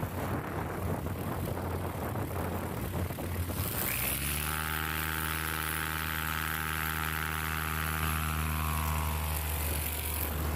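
A STOL aircraft's propeller engine during landing practice at a STOL competition, a steady droning roar that shifts into a strong, tonal, pulsing hum partway through and holds loud and close to the end.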